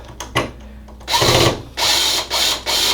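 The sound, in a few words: drill driving 6-32 fine thread screws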